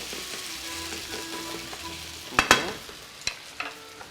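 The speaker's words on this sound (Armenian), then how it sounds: "Մի փոքր թողենք տապակվի։" Food sizzles steadily in a frying pan while a hot salad is prepared, with several sharp utensil clanks and scrapes against the pan near the end.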